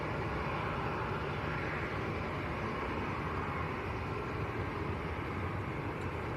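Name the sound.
Ryanair and Jet2 A321neo aircraft taxiing at Manchester Airport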